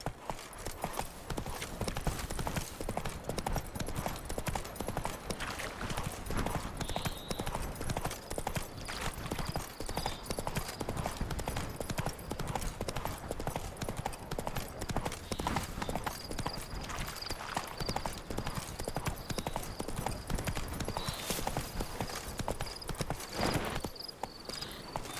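A horse gallops in the video game The Witcher 3: Wild Hunt, its hooves beating a fast, continuous clip-clop rhythm at close range that runs throughout.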